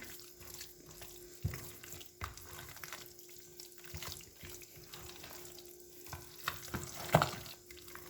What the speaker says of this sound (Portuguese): aqui agora é só misturar super bem também pra agregar bem o tempero